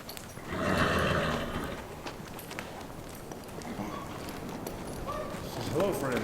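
Hoof clip-clops from a baby horse moving about outside, with rustling and wind noise, and a whinny-like call near the end.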